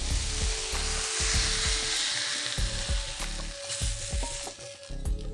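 Butter chicken pieces shallow fry in a pan with oil, giving a loud, continuous hiss and crackle up close, with soft clinks and scrapes of a utensil moving the pieces.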